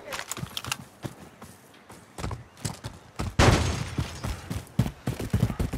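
Sniper rifle shots in a Call of Duty: Modern Warfare match ring out as a string of sharp, close cracks with a heavy blast near the middle, over busy game noise.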